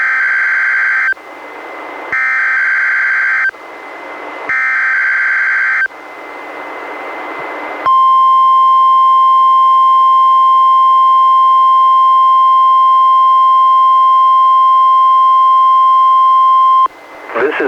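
A NOAA Weather Radio warning alarm test sounds, beginning with several loud alternating electronic data bursts and then a long, steady, piercing single-pitch alarm tone that lasts about nine seconds before cutting off abruptly.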